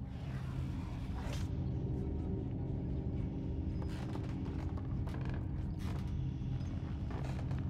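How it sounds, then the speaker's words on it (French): Low, steady creaking and mechanical groaning in the video game Little Nightmares, a continuous rumble with occasional sharper squeaks and knocks rising over it, fairly quiet and with no voices. "Ça grince pas mal."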